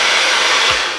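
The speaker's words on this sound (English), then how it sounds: "all you gotta do is grab your girlfriend's hair dryer" A hair dryer blows on a fill-your-own vape cartridge, a steady loud broadband whoosh running alone without pause.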